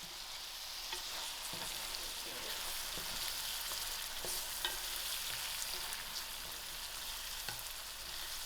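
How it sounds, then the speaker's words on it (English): Broad beans frying in masala gravy, a faint, even hiss of sizzling that runs continuously, with a few soft ticks and pops. "I'll allow this broad beans to fry out for about 5 to 6 minutes till it get a beautiful color of the masala"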